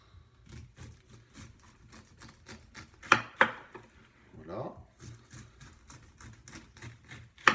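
Knife slicing a pineapple into thin carpaccio slices on a kitchen board, a steady series of soft rhythmic cuts with a few sharper knocks midway, close and fairly quiet.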